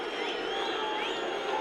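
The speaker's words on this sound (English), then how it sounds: "a resounding cheer for England as they come back out again" A cricket crowd cheers for England as the players come back out: a steady, sustained roar of many voices, moderately loud and unbroken throughout.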